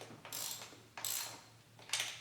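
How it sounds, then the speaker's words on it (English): A ratchet wrench tightening bolts on a car throttle body spacer, three bursts of quick clicking strokes about a second apart, close but quiet, with no talking. "So I'm just going to kind of go back over here, tighten these up."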